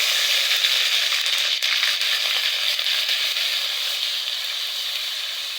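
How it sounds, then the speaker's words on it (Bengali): Ground spice paste frying with two chillies in hot mustard oil for a carp bhuna, a loud, steady, dense sizzle that carries on without a break and fades only slightly by the end. "বাটা মশলা দিয়ে দিচ্ছি"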